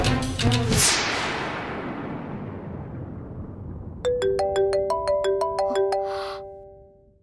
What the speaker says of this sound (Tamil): ஐயோ, ஃபோன் பண்ணி கூப்பிடுறாங்களே.